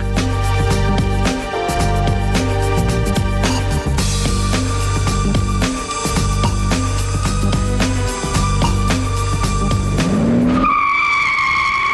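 Tires squeal on a Mercedes S600, a heavy 2.1-ton V12 sedan with 500 horsepower, as it works around a cone slalom course, engine noise loud and steady with a rising screech near the end.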